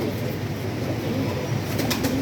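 Pigeons at a pigeon gallery coo and stir in a steady, close chorus, with faint wing flutters, continuous through the whole stretch.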